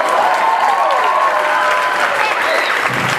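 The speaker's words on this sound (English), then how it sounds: "we'd like you to give a big round of applause for Miss Launder" A theater audience at a seventh-grade school play breaks into steady, dense applause, a continuous wash of clapping from many hands for the full length with no voices standing out.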